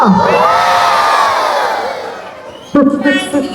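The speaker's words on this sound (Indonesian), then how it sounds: "Kita teriakin Udin bilang waduh." Children in an Indonesian school storytelling session shout together in a loud, sustained group chorus, followed by a brief renewed burst of excited crowd voices.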